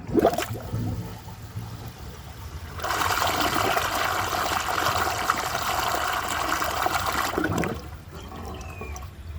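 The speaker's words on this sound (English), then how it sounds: "let's see how it flushes with only the siphon jet." An American Standard Homestead VorMax toilet flushes using only its siphon jet, the rim jets closed: a loud rushing gush of water lasting about five seconds, then a trickling refill that fades.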